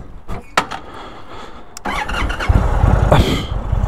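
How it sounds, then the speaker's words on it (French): An Indian touring motorcycle (Pursuit or Roadmaster) is started with a single button: a few clicks and cranking, then the engine catches and settles into a loud, steady, deep idle. "un seul bouton pour mettre le contact et démarrer"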